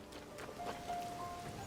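Rain falling in the video game Zelda: Tears of the Kingdom, a faint, steady patter of drops on surfaces with a soft continuous hiss and a thin sustained tone in the background.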